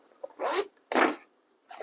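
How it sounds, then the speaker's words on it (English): A bHaptics Tactsuit X40 VR vest is unzipped in two quick, close rasping pulls with a short pause between, followed by the start of a third. "All right, now we unzip"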